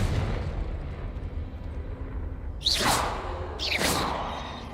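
Spell effects from the Hogwarts Legacy video game: two loud, bright whooshing blasts late in the clip, each sweeping down into a burst, over a steady rumbling game background.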